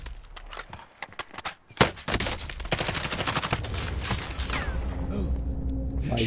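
Gunfire in a PS4 shooter game, rapid bursts of automatic shots in dense succession with a heavier blast midway, loud and continuous amid game noise.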